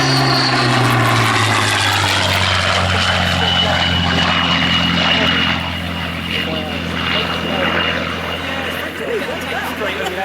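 A Supermarine Spitfire Mk.1 or Hawker Sea Hurricane Mk.1b piston-engined fighter flies past at an Old Warden airshow, its loud droning propeller engine sustained and steady, then easing slightly as it passes, with crowd ambience underneath.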